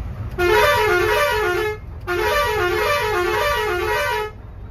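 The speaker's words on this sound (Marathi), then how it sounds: "जरा हार्न बघूया कसं वाजते" Two long, loud blasts of a vehicle horn, close by, separated by a short gap, over a low engine rumble.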